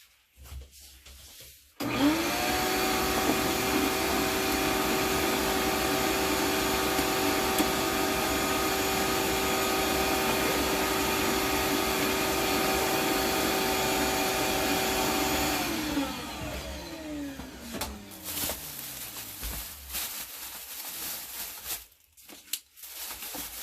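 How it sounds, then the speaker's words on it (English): A vacuum cleaner switches on and runs with a loud, steady whine for about fourteen seconds, then powers down and spins to a stop. "Now I'm going to vacuum."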